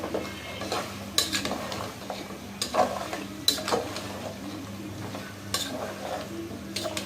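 Goat head meat is stir-fried bhuna-style in a pan, with a spatula scraping and clinking against the metal over a steady sizzle in irregular strokes, close and without talk.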